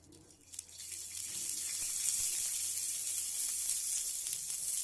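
Oil sizzling in a pan before pigeon pea pods are roasted, a soft crackle at first that swells within a second into a steady, bright hiss and holds close and loud to the end.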